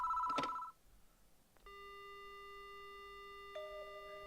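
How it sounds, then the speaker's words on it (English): A short electronic ring burst from a telephone in the video game Death Mark, then a steady, clean dial tone holds for a couple of seconds before shifting pitch. "The phone begins to ring."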